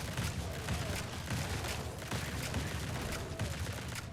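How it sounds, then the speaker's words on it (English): Rapid shotgun fire in the game Grind Survivors, a dense continuous barrage of repeated blasts mixed with busy game noise, loud and unbroken throughout. "This is more of a long-range shotgun than I'm used to."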